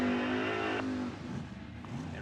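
Ford Mustang drag race car launching hard down the strip at a drag race, a loud rising engine roar that cuts off after about a second, leaving quieter rumble and crowd noise.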